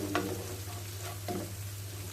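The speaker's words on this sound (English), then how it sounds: "So add my teaspoon of butter," Butter frying in a pan before cauliflower rice goes in, a soft steady sizzle with a few faint stirring scrapes, heard alone at low level.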